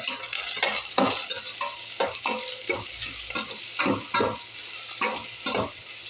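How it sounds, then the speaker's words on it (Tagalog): Tilapia mixed with onion and garlic sautéing in a hot pan, loud sizzling broken by frequent irregular scrapes and clacks of a spatula stirring it up close, no voices. "Ayan, igigisa lang natin yan."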